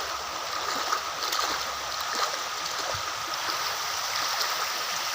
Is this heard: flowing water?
yes